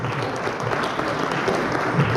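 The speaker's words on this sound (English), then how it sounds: "Let's give you all a round of applause" A room of people applauds candidates at a congressional district convention debate, with even, continuous clapping that holds steady and fairly loud throughout, with no voices over it.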